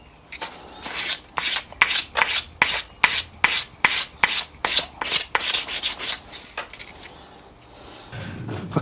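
A hand file rasps back and forth over a custom metal part for a Royal Enfield motorcycle build, cutting away sharp edges in about fifteen loud, even strokes, then stopping.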